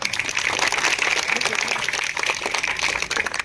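A school crowd gives hearty applause to welcome the MLA at a Republic Day ceremony, sustained, fairly loud clapping from many hands with a busy, uneven texture throughout, voices faintly mixed in.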